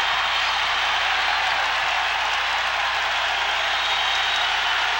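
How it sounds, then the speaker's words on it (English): A packed basketball arena crowd at Carver-Hawkeye Arena during an Indiana at Iowa game, a steady broad roar of cheering and applause that holds loud and unbroken throughout. "The crowd is on their feet here at Carver Hawkeye Arena."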